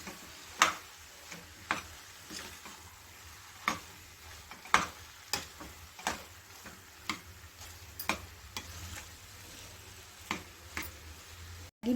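Boiled potato masala is stirred in a pan over a low flame, with repeated sharp spatula taps and scrapes against the metal above a faint, soft sizzle.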